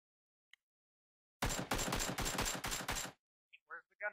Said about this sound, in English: Where's the gunfire?